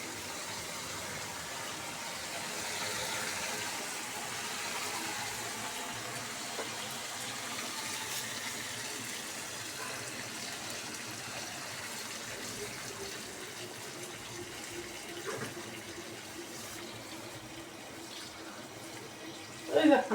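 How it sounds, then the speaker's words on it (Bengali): Water runs steadily into a pan of fish curry cooking with vegetable stalks, a continuous soft pouring and gushing sound that lasts throughout at moderate level, with a brief louder clatter right at the end. "এখন আমি এখানে জল দিয়ে দেবো।"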